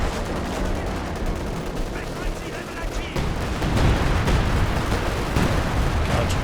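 Artillery barrages and gunfire from a Company of Heroes 2 battle form a dense, continuous rumble of blasts and shots, growing heavier and louder in the second half.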